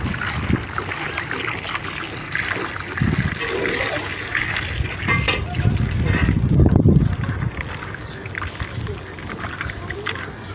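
Taro root (arbi) is rinsed under running water in a home kitchen, with splashing and trickling heard beneath a person talking.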